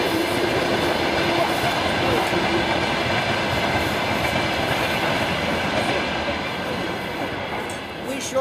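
A train rumbles steadily past at close range, a continuous loud roar of wheels on rails with faint rhythmic clatter throughout.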